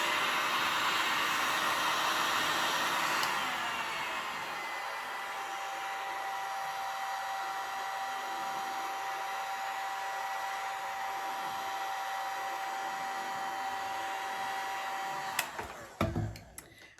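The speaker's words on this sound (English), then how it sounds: "use my heat gun" A heat gun blows with a loud, steady whooshing roar and a faint whine, then clicks off near the end, followed by a few soft clunks.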